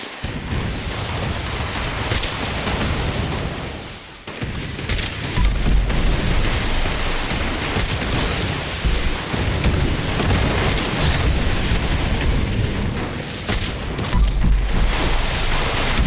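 Rocket explosions in Fallout 76, heavy booms and blasts landing one after another over a continuous roar of combat, loud and close with a brief dip partway through.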